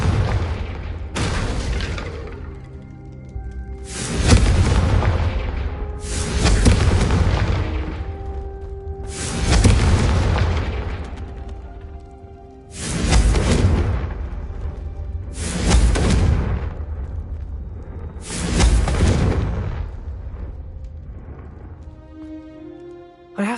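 Spell explosions from Confringo cast in Hogwarts Legacy, a run of about seven loud booming blasts at regular intervals, each a broad crack with a rumbling tail over a low background hum.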